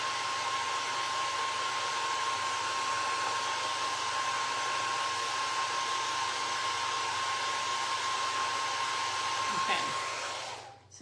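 A hair dryer blows air over a craft project, a steady whining hum that holds constant for about ten seconds and then winds down as it switches off.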